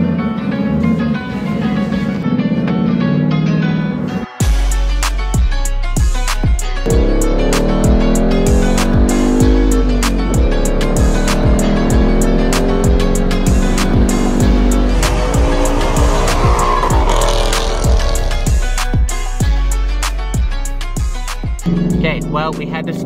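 A 2021 Ford Mustang GT pulling away onto the road, engine droning loudly and rising through gears with sharp transient bursts, heard close from inside or beside the car; speech also seems to occur.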